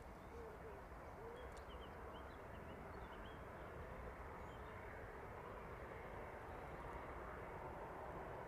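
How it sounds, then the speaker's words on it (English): A Jet2 airliner lands at East Midlands Airport, heard as a faint, steady distant engine rumble with a soft hiss, continuous and alone without talk. "the Jet2 service landing in from Tenerife then"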